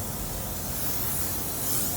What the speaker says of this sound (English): Spray everything, spray everything, spray everything